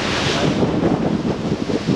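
Ocean waves wash and surge along a Hawaiian shoreline while strong wind buffets the microphone, a loud, rough, continuous roar with no voices.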